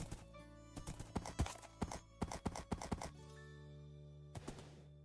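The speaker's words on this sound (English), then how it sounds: "the horses are real fast" Horse hooves clip-clopping in the Minecraft video game, a quick irregular run of sharp percussive hoof clops that stops for a pause and then gives a couple more, heard over a faint steady game background.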